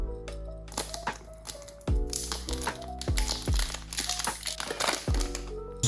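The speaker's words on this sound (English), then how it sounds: "the cube comes in a plastic box." Crinkling and clicking of a hard plastic box holding a WRM V9 speed cube as it is handled and opened, close-up crackles and snaps in irregular bursts with no talking.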